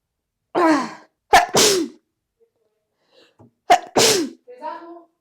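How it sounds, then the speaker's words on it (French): A woman sneezes several times in quick succession, each a sharp, close, loud burst with a breathy intake before it, separated by short quiet gaps and ending with a small voiced sound. "pourquoi j'éternue autant?"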